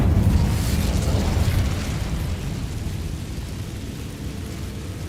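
An Incendio fire spell cast in a Hogwarts video game, a rushing, roaring burst of flame that is loudest at the start, then slowly fades into a sustained low rumble.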